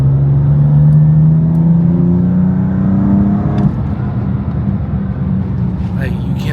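BMW M car accelerating hard in a road pull, a loud engine tone climbing steadily for about three seconds before a shift into a rougher, lower roar that carries on to the end.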